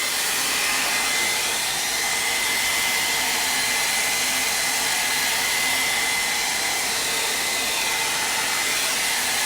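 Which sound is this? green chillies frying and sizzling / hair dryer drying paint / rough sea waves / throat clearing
hair dryer drying paint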